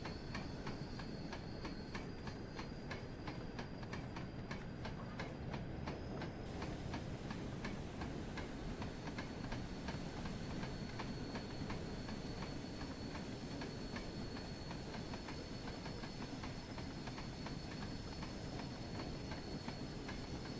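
Steam locomotive rolling along the Peak Forest route in Train Sim World 3, a steady dense rumble with rhythmic clicking of wheels over rail joints and a faint high whine, continuous and fairly loud throughout.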